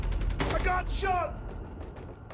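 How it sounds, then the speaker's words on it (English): A weapon reload in the shooter game COD Mobile gives quick mechanical clicks and a ratcheting clack, with gunfire and game noise close behind. "Reloading."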